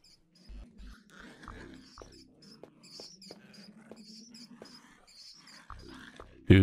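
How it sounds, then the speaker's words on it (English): Low, rumbling dog growls in the indie horror game Light Forsaken, coming in several short bursts and a longer stretch over a dark ambient bed of faint clicks and rustles, with a sharp loud thump right at the end. "Why are you guys growling, though, for real?"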